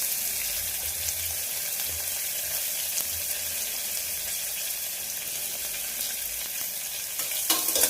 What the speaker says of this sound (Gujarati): એમાં આપણે નાખી દઈશું ડુંગળી, જેને મેં સ્લાઇસ કટ કરીને રાખી છે।